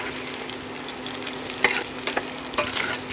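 Chicken skin frying in salted oil, a loud, steady crackling sizzle with occasional louder pops and light stirring scrapes, heard up close throughout.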